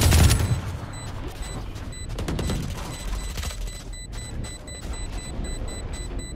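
Shotgun fire in the tactical shooter Valorant, a loud blast at the start followed by scattered gunfire and mechanical clatter over steady in-game ambience.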